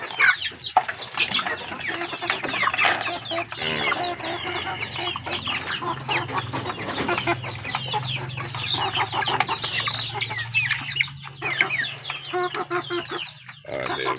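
Pet chickens cluck busily while being fed, a steady close chorus of clucks and fowl chatter running throughout, with occasional voice in the background.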